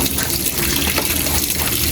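Tap water gushes steadily into a container for laundry washing, a loud, close, continuous splashing rush with no break and no talking.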